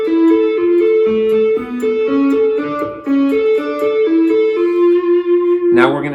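An electric guitar plays Bach's Toccata and Fugue with tapped notes on the third string, a quick run of clear, sustained melodic tones over a repeating pedal note, ending in a brief strummed flourish.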